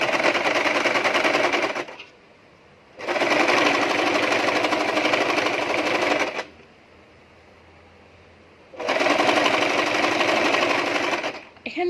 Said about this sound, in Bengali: এখন আমি এইভাবে ভাঁজ করে আমি আমার পরিমাণ মাপ অনুযায়ী সেলাই দিয়ে দিব প্রথমে